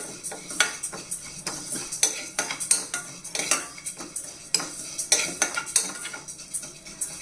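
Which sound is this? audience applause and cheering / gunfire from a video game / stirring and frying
stirring and frying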